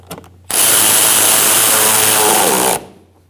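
A power tool tightening a bolt while an AC compressor belt is replaced on a 2012-2018 Ford Focus 2.0L four-cylinder, one loud close whirring burst of about two seconds that starts abruptly and cuts off.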